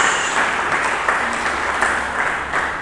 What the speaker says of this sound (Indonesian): Mari kita berikan tepuk tangan bagi Yesus Kristus.